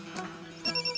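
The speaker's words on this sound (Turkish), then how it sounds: "Ana, telefon çalıyor." A telephone rings faintly in a home, a brief electronic trill of short repeated pulses that starts partway through and sounds well in the background.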